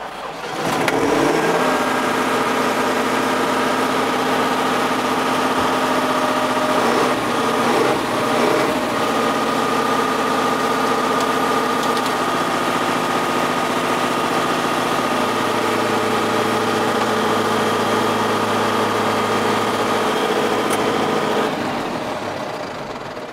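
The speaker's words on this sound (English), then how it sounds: "let's have a look and hear how the engine sounds" A Deutz four-liter, 125-horsepower diesel engine in a Fendt Farmer 412 tractor idles steadily up close, a deep even rumble with a throbbing mechanical drone that holds constant for the whole stretch, no talking.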